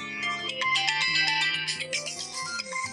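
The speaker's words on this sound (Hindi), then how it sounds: "चलो फोन सुन लो किसका आ रहा।" A bright electronic phone ringtone plays a repeating melodic pattern, loud and close, with no talking.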